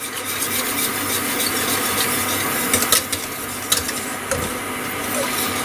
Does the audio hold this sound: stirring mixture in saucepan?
yes